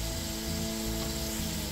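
Koftas frying in an open pan of hot oil, about fifteen for shahi kofta, giving a steady close sizzle with faint crackles and no talking.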